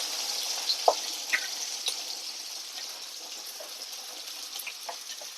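Sliced onion hits hot oil in a kadhai used for frying paneer, giving a steady hissing sizzle with a few crackling pops and scrapes that gradually settle.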